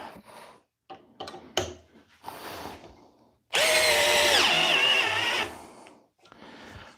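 A $20 Hyper Tough cordless power drill whirs in one loud, close burst of about two seconds, preceded by quiet handling noises.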